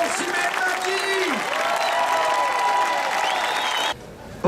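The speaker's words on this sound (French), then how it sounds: "un tonnerre d'applaudissements" A concert audience breaks into loud, sustained applause and cheering that continues almost to the end before cutting off abruptly.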